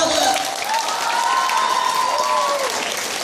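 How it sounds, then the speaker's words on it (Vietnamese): An audience of volunteers and collaborators clapping loudly and steadily at the close of an event, a dense unbroken wash of applause that carries on for the whole stretch with some crowd noise mixed in. "Vỗ tay là không, vỗ thật to thôi ạ."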